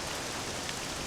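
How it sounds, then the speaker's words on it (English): Steady rain falling in the video game Dragon Quest VII Reimagined, a soft continuous hiss with no clear gaps over about a second, faint and even throughout. "It would appear that the rain has put an end to the festivities."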